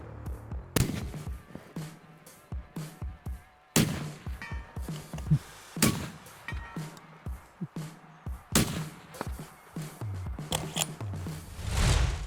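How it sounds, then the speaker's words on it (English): Several sharp rifle shots from a .300 Winchester Short Magnum ring out at an outdoor long-range setting, each loud crack spaced seconds apart amid clicks and handling clatter. "I think it's time to go long range shooting."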